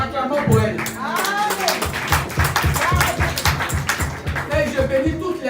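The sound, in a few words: audience applauding at church convention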